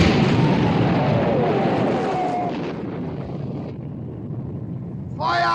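Heavy warship guns fire in a sea battle against the Bismarck, a loud boom and rumble that decays into wind-like noise with faint shouted voices, and a fresh burst near the end.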